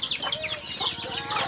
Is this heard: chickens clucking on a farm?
yes